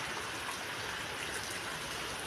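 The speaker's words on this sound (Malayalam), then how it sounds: "ഭയങ്കര ശക്തമായ മഴയുണ്ട് നല്ല ഒഴുക്കാണ്" Heavy rain with strongly flowing water running down a slope, a steady broadband wash that stays constant throughout, close and fairly loud, with no voices.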